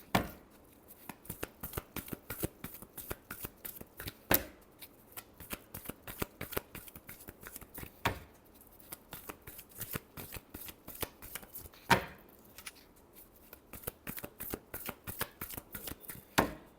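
Tarot cards shuffled by hand in a long, steady run of quick riffling flicks, close and fairly loud, with a few heavier slaps and pauses between bursts and no talking.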